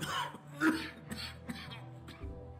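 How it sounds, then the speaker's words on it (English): A single throat-clearing cough in a bar in the video game Alpha Protocol, close and moderately loud, followed by faint background sounds. "A cough like that, this bar may not be the best place to hang out."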